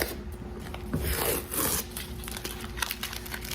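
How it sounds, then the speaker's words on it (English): A tape strip peeled off a freshly painted child's chair, a quiet close ripping and crinkling that swells for about a second, then softer rubbing and tearing rustles trailing off. "I'm just gonna take off the strip here and see how it turned out"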